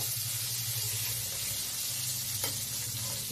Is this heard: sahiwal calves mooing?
no